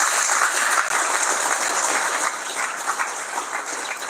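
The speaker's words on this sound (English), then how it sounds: "massive round of applause." Dense, steady applause from an audience at a live community event, continuous clapping filling the room for the whole stretch with no pauses.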